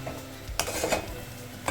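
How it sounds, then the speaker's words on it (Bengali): Green pea kachori filling being stirred in a pan, with a spoon clinking and scraping against the metal in a few scattered strokes, and a faint background hum underneath. "আবারও নাড়াচাড়া করতে থাকবো"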